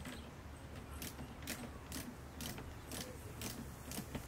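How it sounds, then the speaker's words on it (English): Hex bolts on a Weber Q barbecue side table are loosened with a tool, giving a quiet, regular clicking roughly twice a second. The clicks sit close but faint over a low background hum. "Just want to loosen up these hex bolts enough so that you have some play."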